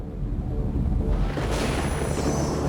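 Large electrical arc explosion, a loud sustained roaring blast with dense low rumble and hiss that swells and keeps booming without a break.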